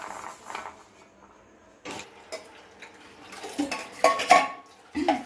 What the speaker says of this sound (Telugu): ఆ పక్కన మా మమ్మీ గిన్నెలు తోముకుంటున్నారు. సో అదనమాట సౌండ్.